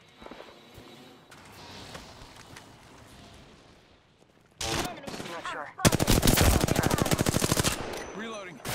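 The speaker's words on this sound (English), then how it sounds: "Shots fired, and they're hitting me." Gunfire in the Apex Legends battle royale game: a sharp burst of shots midway, then a long, loud stretch of rapid automatic fire, with game voice lines and ambience underneath.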